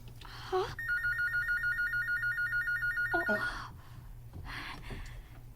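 A telephone rings with a trilling electronic bell in one long burst, fairly loud, with brief breaths or faint vocal sounds before and after.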